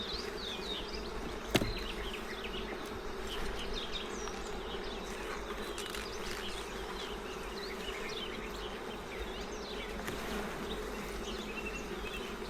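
Honeybees buzz steadily around an open beehive during an inspection, a dense, continuous drone of many wings with individual bees whirring close by, and a brief sharp knock near the start.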